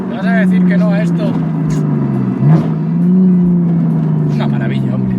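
A BMW Z4 E85 engine revs and idles with a deep, steady rumble, rising briefly in a throaty surge midway, with someone talking over it.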